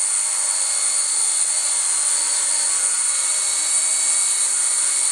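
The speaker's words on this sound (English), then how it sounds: "the copter is still flying" A Copter v7 multirotor drone on a 5S 10000mAh battery hovers with a continuous, steady high-pitched whine of spinning propellers and motors, loud and unbroken, with no voices.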